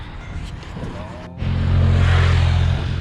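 A nearby motorcycle engine rumbles up suddenly outdoors on a sunny autumn day. It holds a loud, sustained drone as the bike pulls away.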